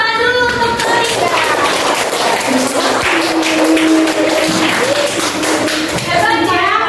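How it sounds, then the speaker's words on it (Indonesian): Students clap for Malika, a classmate, during an environmental science lesson, with steady group clapping running throughout and children's voices talking over it. "tepuk tangan dulu untuk Malika."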